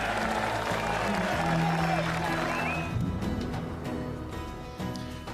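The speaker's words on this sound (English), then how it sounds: "Listen to the cheer." A golf gallery at The Open Championship at Royal Portrush roars and applauds Shane Lowry's birdie on the opening hole, a broad crowd cheer that swells early and slowly fades, with commentary talking over it.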